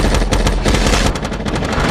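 Rapid bursts of automatic gunfire from an action movie, loud and continuous, with dense overlapping shots and no speech.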